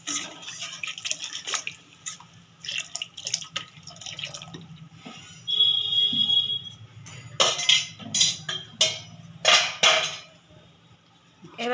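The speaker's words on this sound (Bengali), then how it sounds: "জল দিয়ে দিচ্ছে" Water poured into a cooking pot during Bangladeshi-style fish and greens cooking: a splashing, dripping pour in a few bursts over a low steady background, with some clinks of pots nearby.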